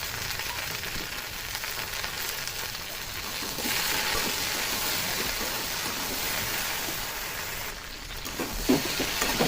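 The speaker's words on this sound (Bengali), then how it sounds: "আমার একটু ভেজে নেবো ভেন্ডি আলুটাকে।" Okra and potato fry in a pan for a mustard-based vegetarian dish, a steady close sizzle and crackle that swells midway, with a few scraping stirs near the end.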